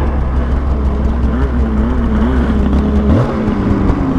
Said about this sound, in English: My sled just started running like complete crap, like it was spittering, sputtering.